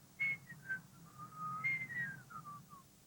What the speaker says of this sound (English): she'd whistle a little song